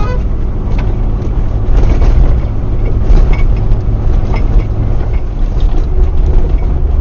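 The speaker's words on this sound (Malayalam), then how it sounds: "വണ്ടിക്കകത്ത് ഗ്ലാസ് ഒക്കെ കിരുന്ന സൗണ്ട് ഒക്കെ കേൾക്കുന്നുണ്ട്" Two or three drinking glasses rattle and clink in the back of a car driven fast on a rough road, a steady jittery chatter riding over the constant low rumble of the moving vehicle.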